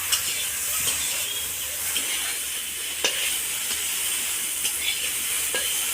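Eggplant fries in a pan with a constant, fairly loud sizzle and hiss, broken by a few faint spatula clicks, with no voices.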